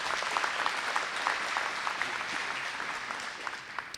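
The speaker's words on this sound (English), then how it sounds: "So give him a nice round of applause." Audience clapping at a community meeting after a fire, steady applause from a room of people that holds evenly for several seconds without any voices over it.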